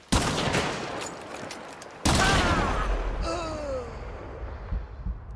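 Gunfire in a video game as shots are put through a wall: a sharp burst at the start, then a second loud burst of shooting that trails into rumbling echoes, with faint voice-like sounds underneath.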